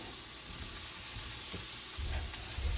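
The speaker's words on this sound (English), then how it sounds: "Now I'm going to toss in my mushrooms." Mushrooms land in a hot sautéing pan for zucchini carbonara, setting off a loud, steady close sizzle with a thump of frying as they hit.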